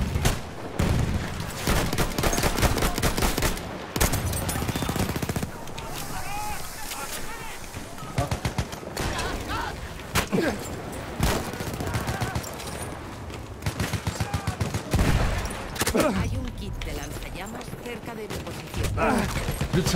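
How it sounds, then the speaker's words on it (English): Gunfire in Battlefield 1: repeated machine-gun bursts and scattered shots, some near and loud, others further off, running through the whole stretch, with players talking over the battle. "somebody's shooting me through the bushes"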